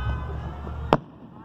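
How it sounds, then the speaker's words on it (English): A firework rocket goes off as one sharp, loud pop near the end of a brief low rumble, then fades. "Big rocket for what it did."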